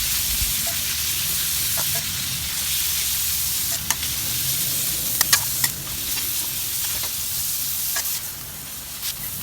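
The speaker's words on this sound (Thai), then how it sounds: "เราก็ใส่หมูสับลงไปผัดลงไปลวนก่อนค่ะ" Minced pork stir-fries in a hot pan for Thai basil pork, giving a steady close sizzle broken by short scraping clicks from stirring, with no voices.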